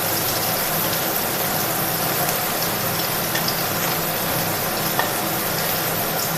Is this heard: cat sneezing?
no